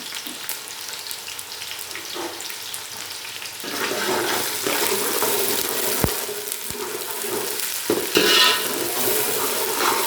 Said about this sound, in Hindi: दो मीडियम साइज के प्याज चॉप हुए हुए हम इस ऑयल में डालेंगे।